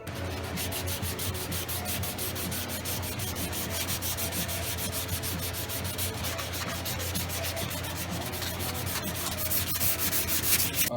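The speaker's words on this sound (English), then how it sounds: "We're going to go ahead and do some final sanding on this and do our sealer test" Final sanding of a fiberglass bondo rust repair on car bodywork, a steady, loud, rapid rasping scrub that keeps going without pause, a little harsher toward the end, with no talk.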